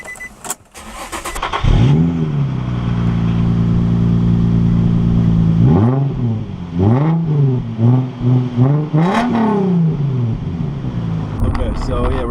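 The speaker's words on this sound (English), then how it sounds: "I noticed my car getting a lot louder than normal" A car with an engine running louder than normal starts up, idles with a steady drone, then revs in several rising and falling surges as it pulls away, heard close from inside the vehicle.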